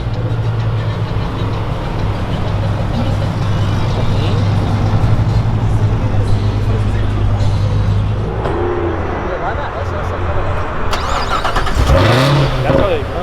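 A Dodge Durango Hellcat rumbles loudly at a crowded car meet, its engine droning steadily before a sharp rising rev near the end, with people talking and shouting around it.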